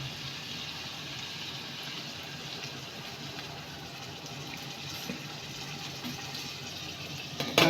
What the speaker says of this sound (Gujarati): તો હવે આપણે અંદર થોડું પાણી એડ કરીશું.